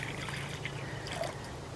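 Water is poured into a garden bird bath as a quiet, soft trickle and splash that continues steadily through a short moment.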